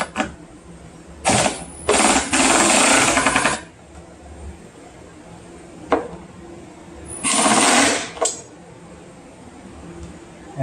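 Power driver sinking screws in bursts to mount an EVL 10 subwoofer in a Jeep, replacing a Skar Audio SVR 10; several short and long whirring runs, close and loud, with quiet gaps between.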